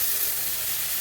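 Water poured into a pan of frying lotya dried fish and potato curry throws up a sharp, steady sizzle and steamy hiss, close and loud for about a second.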